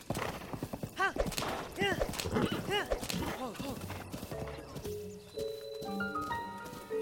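Horse hooves in the video game The Legend of Zelda: Breath of the Wild, a quick rhythmic clip-clop of galloping with snorts and whinny-like calls, followed by chiming game tones, while a voice talks over it.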